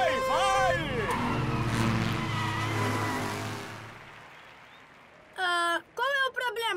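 Animated cartoon race cars rev their engines and pull away in a loud, rising roar with harmonic whines that fade out, followed by a few short sharp tonal bursts at the end, with speech mixed in.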